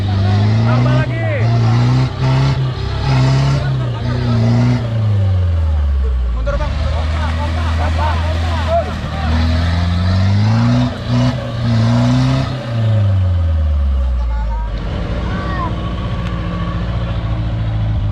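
Armored Toyota Land Cruiser 200 engine revs repeatedly, climbing and falling in several long surges with loud, close intake roar, while people talk and call out over the engine noise.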